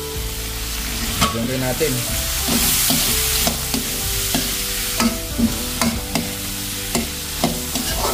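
Garlic, onion and tomato sauté with browned meat in a pan, sizzling steadily under rhythmic clanks of a spatula stirring against the metal. A voice speaks briefly at the start.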